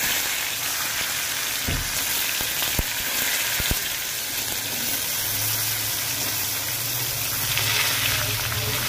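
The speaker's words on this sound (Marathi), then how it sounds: "आता तेलात दोडका टाकल्यानंतर आपण फ्राय करूया" Ridge gourd frying in hot oil in a kitchen, a steady loud sizzle throughout with a few sharp utensil knocks early on.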